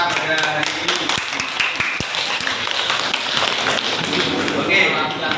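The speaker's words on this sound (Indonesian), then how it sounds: "kita beri tepuk tangan untuk kita pada hari ini" Students in an Islamic secondary school classroom clap together after group project presentations, a lively, uneven patter of hands with some sharp individual claps and chatter running underneath.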